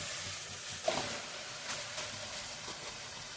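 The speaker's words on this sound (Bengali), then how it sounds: "তো এই যে এই ঘিটা আমি দিয়েছি কড়াইতে, তারপর এই যে সবজিগুলো ভেজে নিচ্ছি।" Vegetables frying in ghee in a wok give off a faint, steady sizzle and hiss, with a few soft stirring scrapes and no voices.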